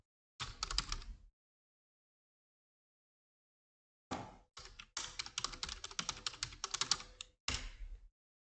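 A password is tapped out on a computer keyboard: one short burst of keystrokes, a pause, then a longer run of quick, close clicks in uneven bursts, with no talking.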